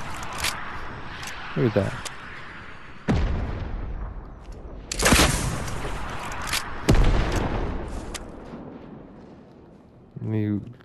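Rocket launch and explosions in the video game Fortnite: several sharp broadband booms and blasts scattered among gameplay noise, loud and close, with a person talking over parts of it.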